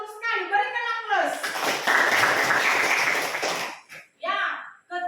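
A classroom of students breaks into applause, a dense burst of clapping lasting about two seconds, with a teacher speaking before and after it.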